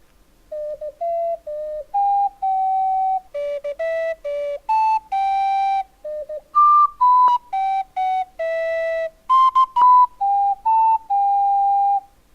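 Clay double AC ocarina playing a melody of pure, breathy whistle-like notes, short and held tones in a rising and falling line, some higher notes with a harsher edge, close and solo.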